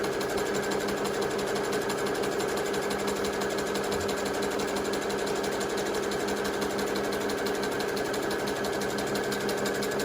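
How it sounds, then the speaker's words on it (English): A sewing machine runs steadily, sewing a zigzag stitch along the side of a fabric face mask. Its needle whirs in a continuous close, even hum with no pauses and no talking. "I'm going to go ahead and do another zigzag stitch right here on either side"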